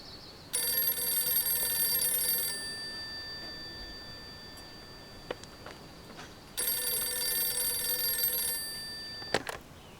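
An old-fashioned telephone bell rings in two loud bursts, each about two seconds long and separated by a pause, inside a home in a Turkish drama. A few faint clicks follow the second ring. No one speaks.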